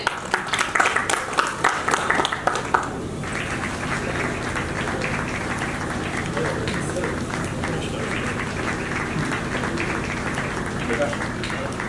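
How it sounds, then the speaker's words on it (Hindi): An audience at a stage event welcomes a BJP district media co-in-charge with a few seconds of scattered clapping, which fades into a steady crowd murmur with people talking. "जिला मीडिया सह प्रभारी भाजपा से जोरदार तालियां हो जाए।"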